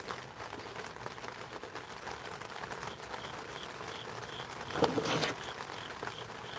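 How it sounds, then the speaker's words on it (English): A faint cricket chirps in short, evenly spaced pulses over steady rain patter, with a brief louder rustle midway. "I hear the cricket. Y'all hear the cricket?"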